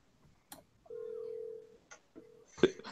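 Telephone dialing tones sound in a quiet room: a short click, then a long steady tone, a brief blip, a shorter tone and a sharp final beep, all fairly faint.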